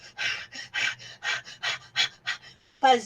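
A person demonstrates rapid accelerated breathing, close up, with about ten quick, evenly rhythmic breaths of panting in and out, followed by a short pause and a brief voiced sound at the end.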